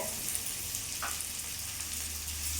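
Chopped onion and pointed gourd fry in a pan, giving a soft, continuous sizzle with a brief stir or scrape near the middle, fairly quiet and free of speech.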